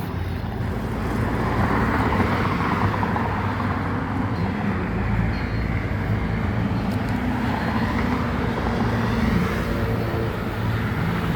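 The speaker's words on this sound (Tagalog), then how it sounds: "Drone Mavic Air 2 ready to take off." A DJI Mavic Air 2 drone lifts off outdoors in Agoo, La Union, giving a steady, fairly loud whirring drone that holds without a break for the whole stretch.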